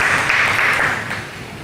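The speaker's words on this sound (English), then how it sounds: "I hope we can give him a round of applause" Audience applause for a chief magistrate at a health and rights symposium, a dense steady wash of many hands clapping, fairly loud and close, tapering slightly toward the end.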